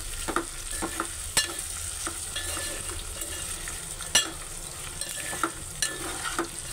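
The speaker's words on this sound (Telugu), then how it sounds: "మనం వేపి పక్కన పెట్టుకున్న బెండకాయలు కూడా వేసేసుకున్నాం ఫ్రెండ్" Fried okra (lady's finger) is stirred in a hot oiled pan, with a steady close sizzle broken by scattered scraping clicks from the spatula.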